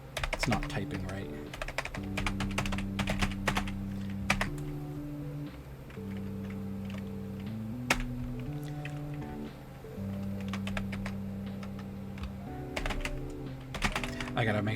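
Rapid computer keyboard typing clatters in close, busy bursts over a steady tonal backdrop of game music, with a voice speaking briefly among the keystrokes.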